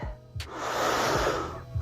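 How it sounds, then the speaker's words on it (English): Heavy, controlled breath during a yoga-inspired calisthenics flow, one long breathy exhale swelling close to the microphone for over a second between softer inhales and brief thumps. "you're not conscious of a microphone hearing your every breath"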